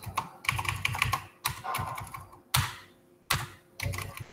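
Code being typed on a computer keyboard in quick clattering bursts separated by short pauses, close and crisp, with no speech.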